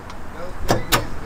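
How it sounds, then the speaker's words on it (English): A custom car door opens automatically at the press of a button, marked by two sharp, close mechanical clicks a quarter-second apart over a low ambient hum. "The button right here to automatically open the door."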